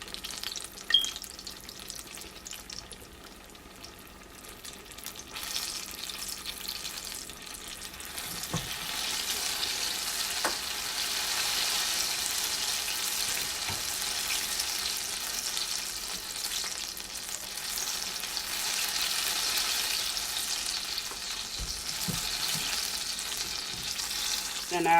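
Apple pies fry in oil over low heat, giving a steady, continuous sizzle that builds slightly and holds, broken by a few faint clicks and taps.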